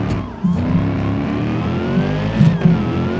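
A Hellcat-swapped minivan in BeamNG Drive accelerating with a steady, loud engine drone that rises in pitch, with brief surges of revving over the sustained roar.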